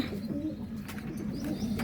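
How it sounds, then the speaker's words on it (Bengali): Pigeons coo steadily at close range while feeding, with scattered chirps over a constant low background murmur. "বড় বড় পায়রাগুলো এরা নিজেরা খাচ্ছে"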